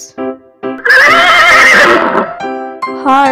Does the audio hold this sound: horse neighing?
yes